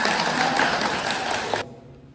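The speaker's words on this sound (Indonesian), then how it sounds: "Tepuk tangan." A classroom audience at a preaching-practice lesson bursts into dense, steady clapping for about a second and a half, then it cuts off abruptly to quiet room tone.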